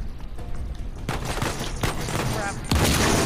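Shotgun blasts and other gunfire during a firefight in Uncharted 4, several loud shots and bursts in close succession over a dense battle background.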